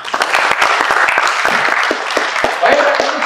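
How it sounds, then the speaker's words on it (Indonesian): A church congregation bursts into applause, a full, steady wash of clapping from many hands in a reverberant hall, sustained for a few seconds with a few louder individual claps standing out. "Tepuk tangan buat Tuhan Yesus"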